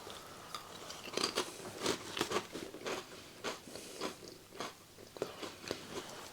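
Close-up crunching of cheddar and chutney crisps at a bar snack and beer tasting: a run of sharp, crackly bites and chews in quick irregular bursts, with no talking.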